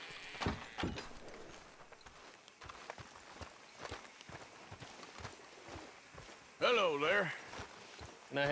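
Horse hooves clip-clop at a steady walking pace in the Red Dead Redemption 2 video game, moderately near, with a sharper burst of sound and a voice near the end.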